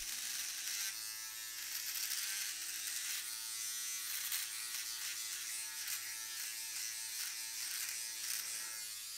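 A Philips OneBlade face and body electric shaver runs steadily and close, giving a bright continuous buzz with a constant low hum and light scratchy texture as it moves, and no talking.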